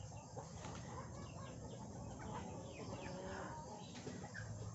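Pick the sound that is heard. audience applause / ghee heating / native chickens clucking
native chickens clucking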